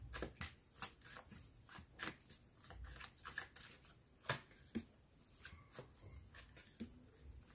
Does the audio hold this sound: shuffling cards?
yes